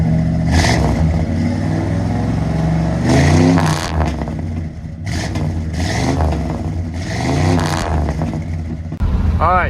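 Ford LTD with Flowmaster 40 mufflers revving repeatedly, each throttle blip rising in a deep exhaust bark and falling back to a low idle, close and loud, with a person talking over parts of it.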